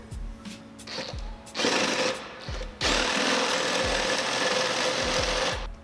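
A power drill runs a bit into wood while a folding squat rack is assembled, whining in steady bursts with a brief stop and restart, then running continuously and loudly at close range.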